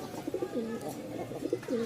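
A pigeon coos softly in a few short, rolling phrases, close and fairly quiet, with a faint background hiss.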